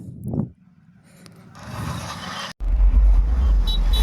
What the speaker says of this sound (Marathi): जबरदस्त ट्रॅफिक इथे लागली